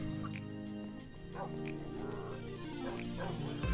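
Several dogs in the video game Minecraft yip and whimper in quick, repeated bursts against a loud layer of steady background music, the barks short and mid-distance.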